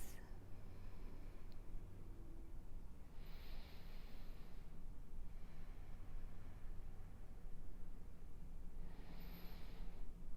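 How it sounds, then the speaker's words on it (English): Deep, full breaths drawn slowly in and out during a yoga forward-fold practice, soft airy rushes repeating every few seconds over a steady background hiss, close and alone. "Taking a couple deep, full breaths"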